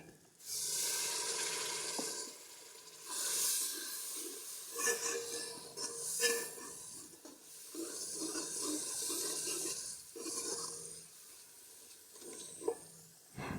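Curry masala frying in a pan of potato and lentil dish after a splash of water, crackling and hissing in irregular bursts that swell and fade, moderately faint, with no talking.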